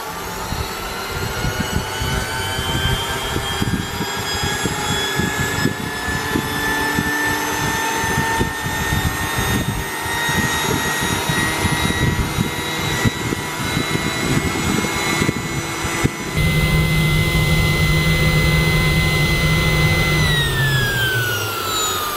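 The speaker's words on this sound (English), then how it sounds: "set the turbine spinning, and it'll just spin there, and that's the cooling" The jet turbine on a jet-powered skateboard spins at around 10,000 RPM to cool itself, giving a loud, steady high-pitched whine and roar with rising tonal lines, heard alone and close by.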